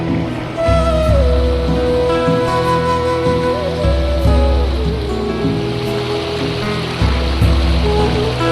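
A fast mountain river rushes steadily near a Himalayan trekking base camp at Seobagh, a loud, continuous wash of flowing water with low rumbling and no talking.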